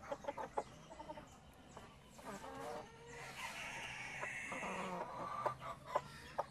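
Polish chickens and a rooster cluck and squawk close by in a busy, irregular chorus in a pen at dusk, with a longer rising call partway through; no talking.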